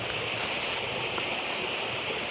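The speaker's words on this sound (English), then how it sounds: "The water here is really beautiful. You hear it? Really loud." A loud forest stream rushes beside a stone wall, a dense, continuous roar of flowing water with no break and no voices.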